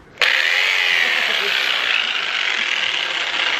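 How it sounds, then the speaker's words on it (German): A loud, steady buzzing jigsaw cutting metal starts abruptly and cuts continuously, a harsh high-pitched rasp that holds without pause. "jetzt kann ich quasi hier anfangen zu sägen und gehe, wenn es gut läuft, einmal glatt da durch"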